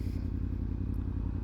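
A Yamaha R1 motorcycle idles steadily at about 1300 to 1500 RPM in hot weather, giving a continuous low, even engine rumble that stays at constant loudness throughout.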